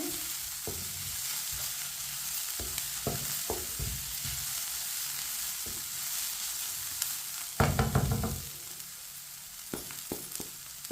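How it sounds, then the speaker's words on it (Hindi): A spoon stirs and scrapes a chicken kabab mixture frying in a pan. A steady sizzle runs under repeated spoon knocks and scrapes, and a louder burst of stirring comes near the end. "इसी तरह चम्मच चलाते हुए पकाएं 3 मिनट के लिए"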